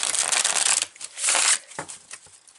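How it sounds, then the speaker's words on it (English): Close-up riffling and slapping of tarot cards being shuffled, a few brisk bursts separated by short pauses, crisp and papery. "shuffle the tarot."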